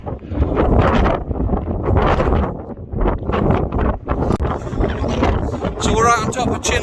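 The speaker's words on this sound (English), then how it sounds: "Very exposed up here. Hella windy." Strong, gusting wind buffets the microphone on an exposed hilltop at Chinley Churn in the Peak District, roaring loudly and continuously while a person talks over it.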